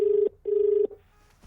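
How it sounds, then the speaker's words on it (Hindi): Telephone ringback tone during a call: two long steady electronic rings, close and clear, followed by a quiet pause. "उसको फोन करना यार।"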